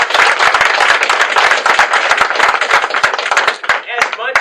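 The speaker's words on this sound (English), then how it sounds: "I want all of you to give a huge round of applause for Jamshid and Chand Naseem." Loud, dense clapping from a crowd fills the space, continuous and energetic, with some voices mixed in toward the end.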